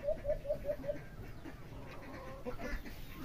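Chickens of a kept breed clucking, a quick series of five short repeated clucks at the start followed by scattered softer calls over a busy farmyard background.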